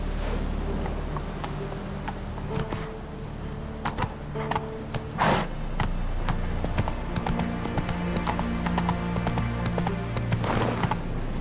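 Horse galloping in The Witcher 3, a steady close clip-clop of hooves running continuously throughout, with occasional louder thuds and light ambient wind.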